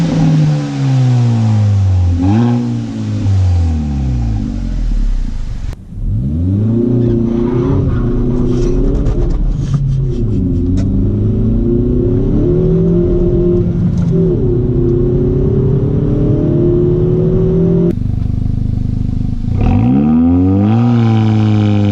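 A Kia Forte GT on its stock exhaust revs repeatedly, the engine note climbing and falling in several loud bursts with short pauses between, heard up close and with no talk over it.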